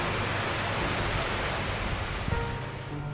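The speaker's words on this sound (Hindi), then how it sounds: "तब कुछ दिनों के बाद फिर से बारिश हुई।" Steady rain pouring down in an animated cartoon, a continuous hiss of falling water with a faint thump near the end.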